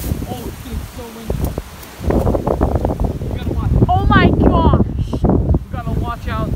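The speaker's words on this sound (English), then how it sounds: "Oh, dude, it's so windy." Strong wind gusts roar across the microphone beside lake water at night in Beaver Meadows, loud and buffeting throughout, while people talk over it.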